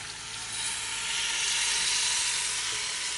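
Water poured over chopped vegetables in a pot while making pumpkin soup, a steady broad hiss and rush that swells slightly and holds without a break, with no talking.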